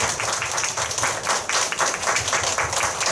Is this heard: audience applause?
yes